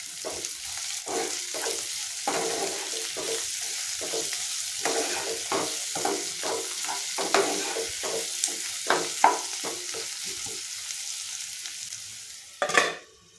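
Chopped onions frying in a pan for chicken biryani, a steady close sizzle broken by repeated scrapes and knocks of a stirring spoon, ending with a sharper clatter.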